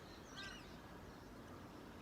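At dawn, a bird gives a single brief honking call early on, faint and distant against a quiet, hushed background.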